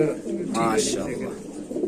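Red Sirazi and red Lahori pigeons coo softly in a loft, a short throaty burst standing out over steady background murmur and nearby voices.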